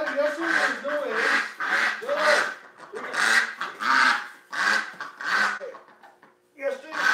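Hospital ducks and geese honk and quack repeatedly in a loud, close, overlapping chorus with hardly any pause.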